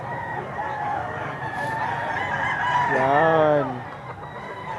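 At a gamefowl market a rooster crows loudly nearby in one long rising and falling call, while other chickens cluck and someone briefly speaks against the farmyard background.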